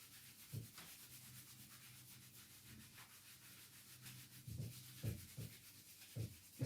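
During a Do In self-massage, hands rub briskly over the body, making a soft, continuous swishing friction. Faint, close rhythmic strokes and a few light pats build near the end. Nobody speaks.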